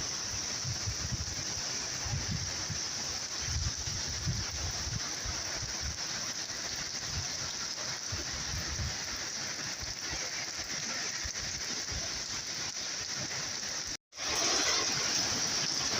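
Steady rain hisses throughout with low rumbling underneath, briefly cutting out near the end before resuming slightly brighter.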